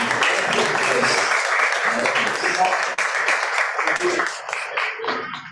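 Applause from a crowd fills the space, steady clapping that gradually thins toward the end, with some voices mixed in.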